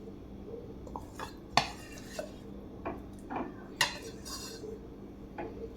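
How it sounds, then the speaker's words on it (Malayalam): A spoon stirs mango pieces into a creamy sabudana shake, producing scattered light clinks and scrapes against the container over a soft background hum, with no talking. "ഇനി ഇതൊന്ന് നല്ലതുപോലെ ഇളക്കി മിക്സ് ചെയ്യാം നമുക്ക്"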